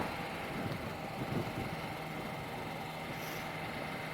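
Steady engine drone from inside a moving car cruising at about 3,000 rpm and 42 mph, a continuous mid-pitched hum with faint vibration, no talk over it.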